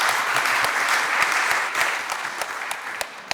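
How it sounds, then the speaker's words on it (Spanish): A seminar audience in Concepción applauds after a presentation: a dense, steady patter of many hands clapping at moderate loudness, with a few sharper individual claps standing out and no voices. "Un aplauso para su presentación."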